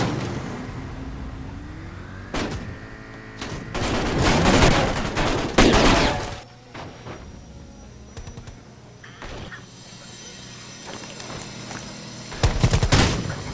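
Gunfire in the mobile battle royale game Rules of Survival, with loud rapid bursts of shots in clusters early on and again near the end, separated by quieter stretches of in-game ambience.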